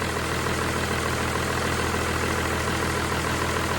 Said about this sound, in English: That engine sounds better every time I turn it on.